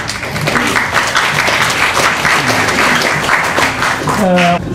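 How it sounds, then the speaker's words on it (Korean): A crowd claps steadily and warmly throughout, with the applause holding at an even level to the end. "다시 한번 감사 박수를 드리고요"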